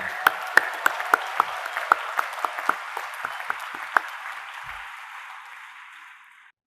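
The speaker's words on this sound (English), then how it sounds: "give yourself a huge round of applause in which I join" A graduation audience applauds, sharp individual claps popping out over a dense, steady wash of clapping that gradually fades away.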